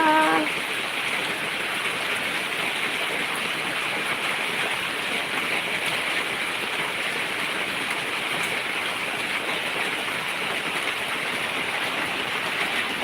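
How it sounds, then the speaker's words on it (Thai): Steady rain pouring outdoors in Songkhla province, Thailand, a dense continuous hiss of drops at moderate level, with a brief faint voice at the start. "ถ่ายให้ชมฝนตกค่ะ"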